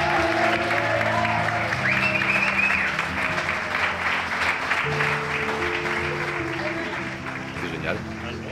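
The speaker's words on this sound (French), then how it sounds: "Chers amis, un tonnerre d'applaudissements pour Florian Petit." Audience at Artweekend, a small-scale artists' event, applauding Florian Petit; sustained dense clapping from a crowd, steady and fairly loud, with tonal music and some voices underneath, tapering slightly near the end.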